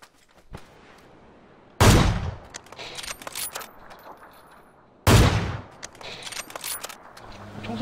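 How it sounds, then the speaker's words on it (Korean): Gunfire in PUBG played on Xbox: two sharp, loud blasts several seconds apart, each trailing into a ragged rumble, with quieter clicks and scattered shots in between. "총소리 들리는 데마다 가고 있어, 지금."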